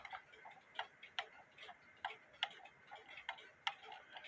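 A pendulum wall clock running out of beat ticks in an uneven, limping rhythm, with its sharp clicks spaced irregularly rather than evenly. The sound is quiet and close.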